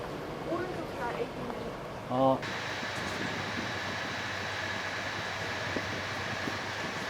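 The interior of a moving Intercity train runs outside Rome in Italy, with a steady low rumble and hiss of the carriage in motion, preceded by a brief faint voice and a short tonal chime, heard from inside at moderate loudness.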